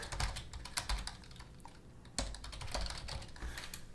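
Typing on a computer keyboard produces close, fairly quiet runs of rapid key clicks, with a short pause partway through before the clicking resumes.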